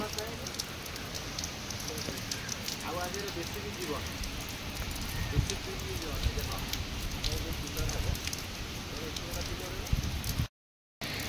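Steady rain falls and patters on surfaces during an outdoor puja, a dense, continuous hiss with scattered drip taps that stays fairly even throughout, briefly cutting out near the end.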